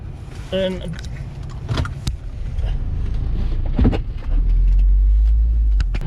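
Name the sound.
bus pulling up behind parked car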